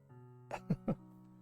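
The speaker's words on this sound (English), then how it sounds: "if I keep clearing my throat over again, I might have to make this a very short stream" A person on an art livestream clears their throat in three quick rough bursts over a quiet background hum, close and fairly loud.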